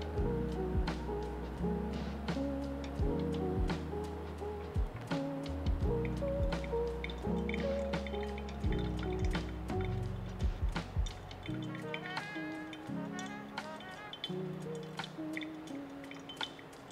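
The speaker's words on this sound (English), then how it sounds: "at 2 minutes I'm gonna pour again." Water drips and trickles through coffee grounds in a pour-over brewer, a quiet run of soft irregular droplets and gentle splashes, close by, with no talk.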